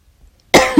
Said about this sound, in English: I coughed right in the microphone.